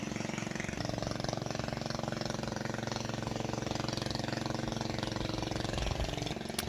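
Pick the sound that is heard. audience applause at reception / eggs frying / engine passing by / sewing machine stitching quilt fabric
engine passing by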